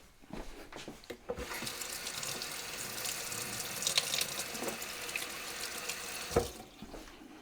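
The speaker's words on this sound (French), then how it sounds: "Et je vais aller chercher de l'eau dans mon évier" Water runs from a kitchen sink tap for several seconds, a steady close hiss with a few clinks and splashes as it fills a tablespoon.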